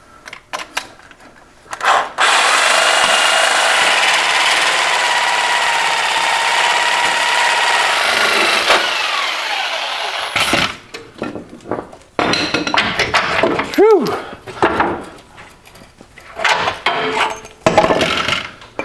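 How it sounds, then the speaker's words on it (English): A Sawzall reciprocating saw with a Diablo blade cuts into a lifted Toyota frame, a loud, sustained rasping buzz up close for several seconds, followed by intermittent clanking and shorter bursts of cutting. "A good one is Diablo blades for your Sawzall."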